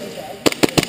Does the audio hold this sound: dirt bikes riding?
no